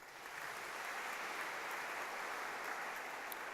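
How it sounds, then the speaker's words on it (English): Audience applause for school principals at an education awards ceremony, a steady, even wash of clapping from a large crowd that fills the whole stretch without any voices. "Very, very deserving round of applause."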